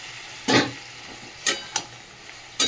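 Soybean chunks cooking down with spices in a pan, a few separate scraping stirs of a spatula over a faint background sizzle, close and without talk.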